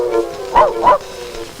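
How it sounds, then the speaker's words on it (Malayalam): A dog gives two short, close barks in quick succession, an excited commotion at night during a search for a fox in a shed, standing out over a quiet background. "പട്ടി കിടന്ന് ബഹളം വെക്കണ കണ്ട,"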